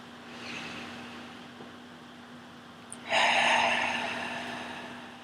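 A person breathes in deeply through the nose during a guided breathing practice: one long, full, airy inhale that rises suddenly and fades slowly, close and fairly loud over a steady low hum, with no talk.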